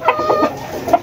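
Game fowl rooster at a game farm clucking in several short, fairly close bursts, with a final louder cluck near the end and no talk.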